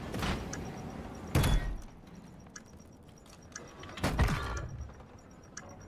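Doors shut in the video game Rainbow Six Siege, two separate sharp thuds a few seconds apart, each with a brief rattling tail, over quiet background game ambience.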